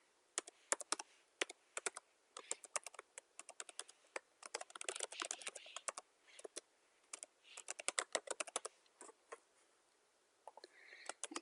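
Someone types a password on a computer keyboard, a close, crisp series of key clicks in irregular bursts with short pauses, sharp against near silence.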